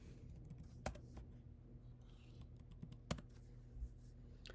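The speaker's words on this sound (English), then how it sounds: "we're going to type sudo service PostgreSQL start" Soft, close keystrokes on a computer keyboard as a terminal command is entered, a quiet run of taps with a few sharper clacks, no voices.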